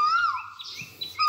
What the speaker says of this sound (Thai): เหมือนเสียงนกกระเว้าเจ้